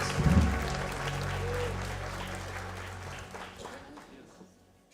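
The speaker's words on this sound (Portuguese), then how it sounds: "Aplauda o nome do Senhor Jesus" A church congregation applauds together, a loud burst of clapping that swells at the start, then holds steady before slowly thinning out and fading away.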